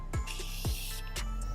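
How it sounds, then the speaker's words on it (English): A face mist bottle is pumped in a few short, close hissing sprays, each a quick breathy burst of fine spray with brief pauses between them. "Now I'm just gonna go ahead and spray my face one final time."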